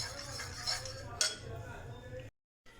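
A spoon clinks against a bowl or cup while a teaspoon of white vinegar is stirred in for a red velvet cake. There are two quick metallic chinks over a faint background, then a brief cut to silence.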